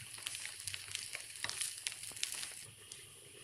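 Bread fries and browns in a pan over low to medium heat for a coconut ladoo, giving a faint, steady sizzle with small crackles and pops close by, and no talking.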